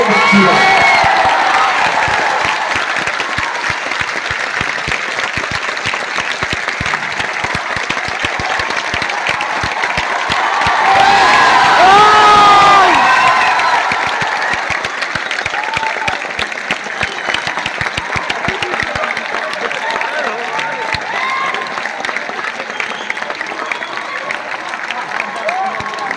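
A large seminar audience at Bapu Sabhagar, Patna claps continuously for a long stretch, a dense, even roar of hands that peaks midway, with scattered whoops and amplified speech riding over it.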